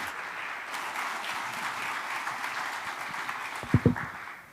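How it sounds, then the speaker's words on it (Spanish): Audience applause at a health and investment congress, with sustained clapping from a seated crowd and a few louder, closer claps near the end. "Un aplauso para todos ellos,"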